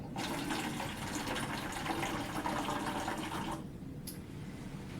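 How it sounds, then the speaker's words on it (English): Distilled water from a home water distiller pours into a small watering can, a steady rushing, splashing flow that stops abruptly, followed by a brief faint clink. "we're going to use some water here from our water distiller, and we're going to fill up this little watering can"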